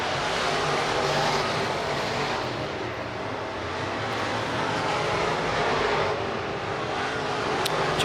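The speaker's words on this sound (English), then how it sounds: "Oh, we're going to hot lap." Race cars running hot laps at Boone Speedway in Boone, Iowa, a continuous broad engine roar at a distance, swelling and easing slightly as cars circle the track.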